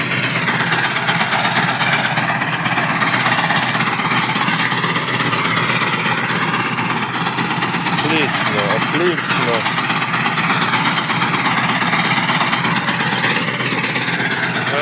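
Constant loud, rough engine drone and rattling vibration from a new garlic digger working through wet, weedy soil, running steadily throughout with faint voices mixed in.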